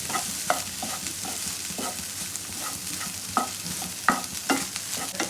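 Soya chunks frying in a pan while being stirred, with a steady hiss broken by repeated scrapes and clicks of the spatula.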